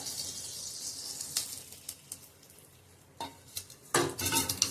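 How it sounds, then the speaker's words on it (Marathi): Coconut roasts in a pan over low heat for gond ladoo, heard as dry scraping and stirring strokes over a soft crackle, with sharper bursts of scraping toward the end, up close and without speech. "स्लो गॅसवरतीच भाजून घ्यायचं आहे खोबरं."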